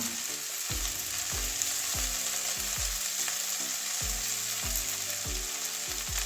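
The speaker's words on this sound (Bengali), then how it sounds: "এবারে এই যে একদম কড়া করে ভেজে নিয়েছি" Potato, cauliflower and carrot pieces frying in a pan, with a steady loud sizzle throughout and repeated scraping knocks of a spatula as the vegetables are stirred.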